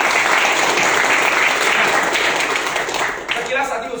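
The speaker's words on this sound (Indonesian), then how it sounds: "Tepuk tangan untuk kayak gini." Audience applause at a community meetup: a dense wash of clapping from many hands, loud and steady for about three seconds before tapering off.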